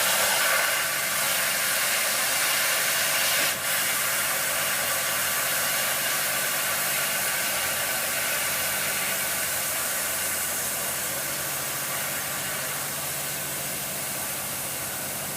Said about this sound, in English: we're just going to drain all the air out of it